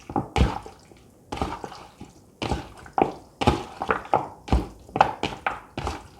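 Chicken marinade being mixed for chicken lollipops, a run of wet, squishy thunks and soft drips repeating in an uneven rhythm, close up, with no talking.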